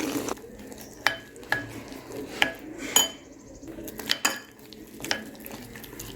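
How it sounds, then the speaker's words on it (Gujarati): A utensil clinks and scrapes against a bowl in irregular strokes, a series of sharp taps as gram flour and rice flour batter is mixed with water, fairly close and without talk. "પોણો કપ પાણી ઉમેરી અને હલાવી લઈએ છીએ"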